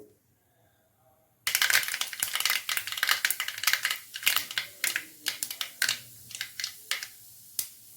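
Mustard seeds pop and splutter in hot groundnut oil in a pan as kurma is started, a dense run of sharp crackling bursts close by after a quiet start, thinning toward the end.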